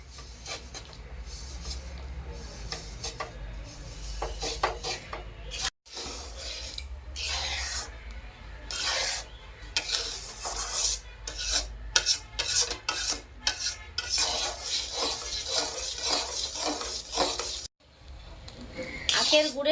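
Sugarcane jaggery melting in a pan over a medium gas flame is stirred with a utensil, giving repeated rasping scrapes against the pan in uneven strokes, loud and close, with a couple of brief pauses.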